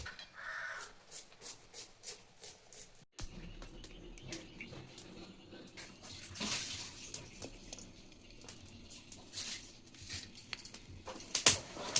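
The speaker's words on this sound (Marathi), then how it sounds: "आता गरम पाण्यात मीठ टाकून धुवून घ्यायचं आहे." Wild mushrooms are rinsed in hot salted water in a Konkan village kitchen, giving soft intermittent splashing and sloshing, with birds calling in the background.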